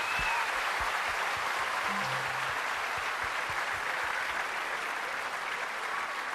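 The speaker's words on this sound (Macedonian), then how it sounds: "Затоа еден голем аплауз" Large audience at the Zlatno Slavejce 2008 children's song festival applauding steadily, a dense, even wash of clapping that holds for several seconds without talk.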